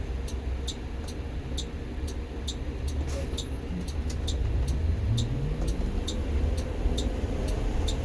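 A 2020 Blue Bird rear-motor electric school bus drives and turns, with steady low road rumble, a motor whine that rises in pitch as it accelerates, and a regular turn-signal ticking throughout.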